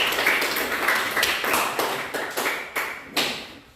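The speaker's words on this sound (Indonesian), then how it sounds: "Ya, mari kita tepuk tangan." A small classroom group claps hands after student presentations in an Indonesian school lesson, with a handful of distinct, uneven bursts of clapping, close and fairly loud, each trailing off before the next.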